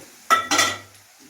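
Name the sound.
marinated meat added to the cooking pan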